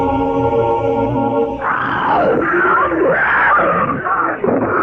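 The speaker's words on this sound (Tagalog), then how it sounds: "Isang napakalakas na sigaw ang narinig nila at hindi ito nanggagaling sa isang tao." A loud, inhuman monster scream rises out of a sustained droning tone and wavers in pitch as a rough, drawn-out wail for several seconds, set in a zombie horror story.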